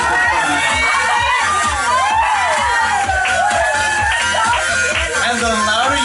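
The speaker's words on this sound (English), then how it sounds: "Give it up for them." A school-event crowd cheers and shouts continuously for performers on a catwalk at a hypnosis show, with loud whoops, children's shrieks and overlapping voices filling the hall throughout.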